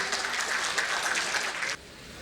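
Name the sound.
round of applause welcoming the chief guest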